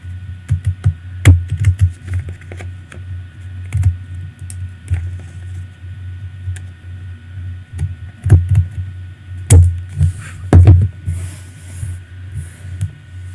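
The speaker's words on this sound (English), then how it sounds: "have the shape cutting scissors with a zigzag, but just giving it that zigzag edge" Zigzag-edged decorative shape-cutting scissors trimming the bottom edge of a paper craft album, giving a series of close, crisp snips and rustles in uneven bursts over a low steady hum, with no talking.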